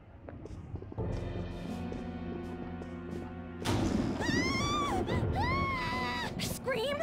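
Inside the Persona 5 video game, a loud crash with a sustained rumbling tone gives way to a high wavering scream or wail rising and falling over dramatic game sounds.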